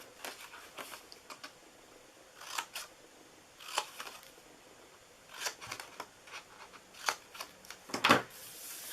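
Scissors snip through paper or card while a simple little box is being cut out, giving a series of short, crisp cuts spaced irregularly and fairly close, over a quiet background.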